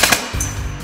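Gunfire in the F.E.A.R. 3 video game: two quick sharp shots at the start followed by a lighter mechanical click and ringing tail, close and loud.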